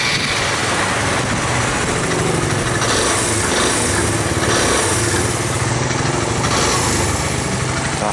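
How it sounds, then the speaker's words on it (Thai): A new 125cc Vanvan motorcycle engine is electric-started and revved, its loud, steady buzzing drone running without a break and swelling slightly with throttle, close by and with no talk over it. "กดสตาร์ทที่แฮนด์ดูแรงไหม"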